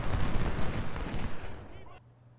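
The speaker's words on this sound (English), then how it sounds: "Very effective, the artillery in this game." Booming Civil War cannon barrage in Ultimate General: Civil War, a dense rumble of overlapping artillery blasts and crackling musketry that fades out near the end, leaving a low hum.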